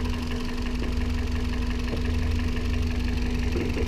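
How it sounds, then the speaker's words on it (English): A 1999–2005 Toyota Celica 1.8 VTi 143 hp engine idling, a steady, smooth low hum with a constant tonal drone and faint mechanical ticking, heard close and continuous with no talk. "So this is the engine. It's almost working like it's not working."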